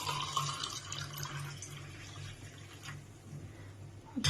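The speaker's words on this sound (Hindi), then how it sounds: "नींबू डाल दिया इसके अंदर, अब पानी डाल देते हैं।" Water is poured into a glass of lemon water with lemon already added, a soft, continuous splashing trickle heard close by, with a brief louder clink near the end.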